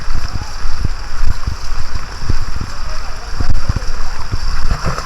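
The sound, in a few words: water on a flooded road after heavy rain in Thailand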